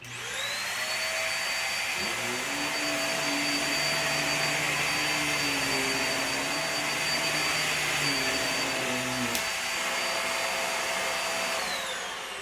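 A Hoover React Powered Reach Premier upright vacuum cleaner runs steadily with a loud, constant whirring drone, its motor pitch shifting slightly partway through before winding down near the end.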